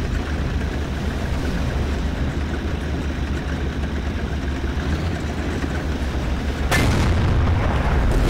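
In Garry's Mod, a steady low engine rumble runs throughout, then a tank cannon shot bursts in near the end, a sudden loud boom that sits on top of the drone.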